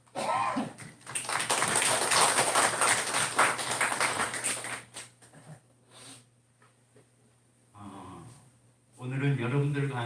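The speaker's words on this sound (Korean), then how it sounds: "한번 박수로 환영하도록 하겠습니다" Church congregation at a Sunday worship service clapping together to welcome a first-time visitor, a loud sustained burst of applause for about five seconds that fades, followed by quieter room sound and a voice near the end.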